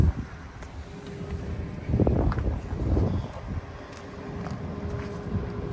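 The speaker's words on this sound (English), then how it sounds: "It's awful windy out here." Strong wind blowing outdoors, a steady low roar and buffeting against the microphone that swells in gusts over several seconds, with faint distant rumble beneath and no speech.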